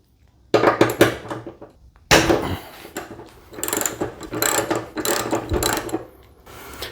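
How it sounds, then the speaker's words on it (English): Ratchet with a 12 socket undoing the bonnet hinge bolts on a Suzuki Jimny, bursts of rapid metallic clicking in several separate runs, close and fairly loud. "we need to undo the bonnet hinge bolts"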